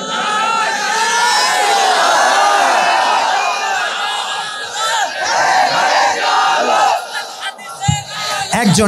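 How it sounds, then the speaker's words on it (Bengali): A large crowd at an Islamic sermon gathering roars a takbir in unison, loud and sustained, many voices shouting together and fading into scattered shouts and murmuring near the end. "দাঁড়িয়ে একটা বাঘের মতো তাকবীর দিবা"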